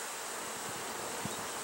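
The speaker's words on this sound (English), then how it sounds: "we got a boatload of bees" Honeybees buzz in a dense, steady drone from an opened hive crowded with bees, close and continuous.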